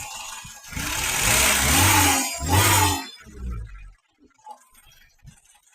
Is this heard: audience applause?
no